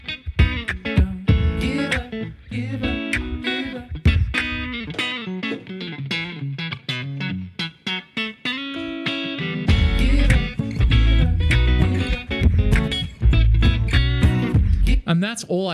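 Layered guitar loop from a loop pedal playing a song, dense and loud with distorted, effected tones, first with a backing vocal layer and then with the blue pedal dropped out, no talking.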